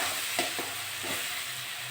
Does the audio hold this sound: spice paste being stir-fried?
yes